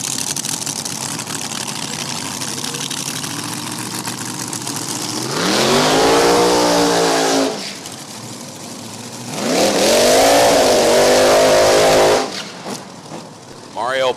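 NHRA drag race cars at No Problem Raceway roar down the strip in loud, rising surges of engine noise, two big passes sweeping up in pitch, with an announcer's voice over the racket.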